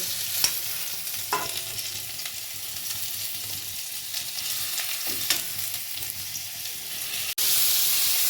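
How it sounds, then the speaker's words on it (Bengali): A steady frying sizzle of cauliflower pieces in a pan hisses throughout, with a few scraping stirs and a sudden louder burst of sizzling near the end. "বাকি কপিগুলো ভেজে নিচ্ছি, সব আমি একবারে ভাজিয়ে নিচ্ছি।"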